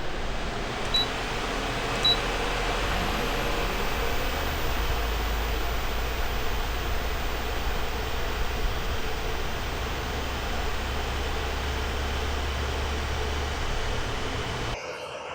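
A 12V rooftop air conditioner on an RV runs quietly, giving a steady, even broadband hum with no talking, holding constant for the whole stretch before cutting off at the very end.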